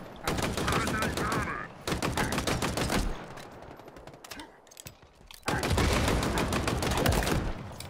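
Rapid automatic gunfire from a commando rifle in the video game Halo Infinite, long dense bursts separated by brief pauses, loud and close, with game noise between bursts.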